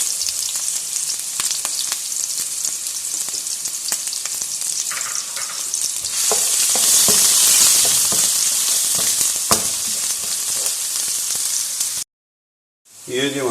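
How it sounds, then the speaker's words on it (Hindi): Onion fries in a pan for a beef masala fry, giving a continuous loud sizzle with stirring scrapes. The sizzle swells midway, then drops briefly to silence near the end. "अब इसके अंदर शामिल कर देंगे 1 अदद प्याज। इसको हम पकाएंगे"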